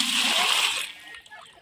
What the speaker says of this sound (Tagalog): Malapit na mapuno yung planggana.